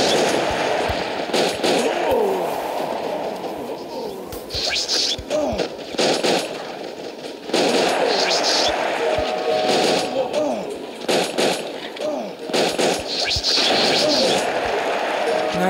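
Golden Blunderbuss gunfire in the mobile shooter game Respawnables, repeated loud booming shots in irregular bursts over busy game sound effects and music, with a voice talking throughout.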